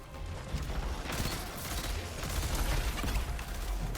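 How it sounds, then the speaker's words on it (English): Continuous dense gunfire and grenade blasts from a Destiny 2 Iron Banner player-versus-player match, a loud, steady barrage with no clear breaks, swelling slightly toward the end. "he's just, like, tossing grenades"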